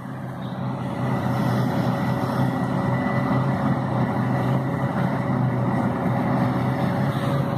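A forage harvester chopper and a truck run together during a silage harvest, making a loud, continuous heavy diesel drone with a steady low hum and a faint whine that rises just after the start and then holds without voices.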